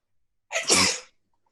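A single sharp sneeze, close and fairly loud, with a quick intake and burst lasting about half a second, followed by silence.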